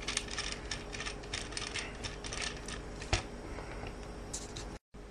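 The ratchet leg joint of a Toyworld Orion figure, a Nemesis Prime toy, clicking as it moves back and forth, a rapid series of faint, close clicks with one sharper snap, no talking.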